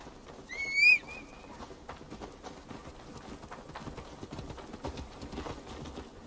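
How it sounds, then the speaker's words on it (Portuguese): Hoofbeats of a giant wolf mount in Assassin's Creed Valhalla thud in a steady running rhythm. A brief high call or whinny sounds near the start. "Tá certo que o barulho é mesmo do cavalo, né?"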